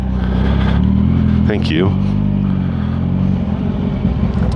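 A 2019 Kawasaki Ninja 1000 motorcycle engine drones steadily on a short ride, close and loud, with a brief rising whine midway as revs shift; a voice speaks briefly over it.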